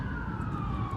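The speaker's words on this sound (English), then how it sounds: "The police are coming." A police car siren passes on a road, its steady wailing tone sliding slightly downward and holding moderately loud throughout with no talk.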